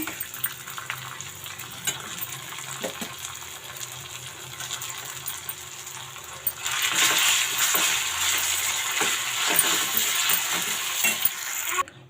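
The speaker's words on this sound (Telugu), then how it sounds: "చూడండి, నేను సేమియా కొద్దిగా వేసుకుంటూ కలుపుకుంటున్నాను." Vermicelli (semiya) being stirred in a pan for semiya pulihora, giving a steady soft frying sizzle with scraping stirs that swells louder about halfway through, with no talking.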